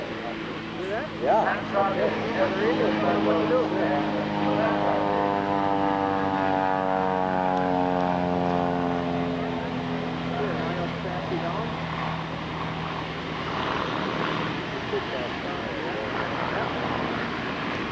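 A propeller airplane flies overhead, its steady engine drone holding for several seconds and then sliding downward in pitch as it passes and fades.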